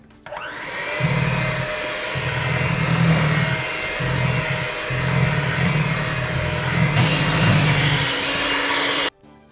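An electric hand mixer whirring through sweet potato pie filling, a close, steady motor drone with a low grinding churn that pulses in bursts as the beaters move through the bowl, no talking.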